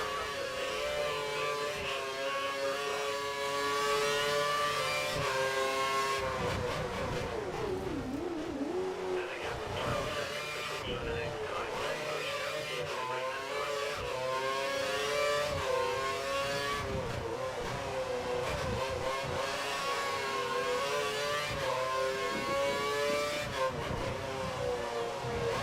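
A Formula 1 car's engine in the F1 2013 racing game at Monza, Italian Grand Prix, whines and revs up through the gears with repeated rising pitches and brief shift drops, loud and continuous.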